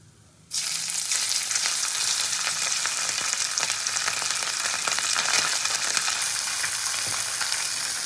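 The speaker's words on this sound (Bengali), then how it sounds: "তো এই মাছগুলো মোটামুটি ভেজে আমি তুলে নেবো এপিট ওপিট করে।" Kajli fish fry in hot oil for a Bengali fish curry with potatoes, a loud steady sizzle that starts abruptly and keeps crackling evenly throughout.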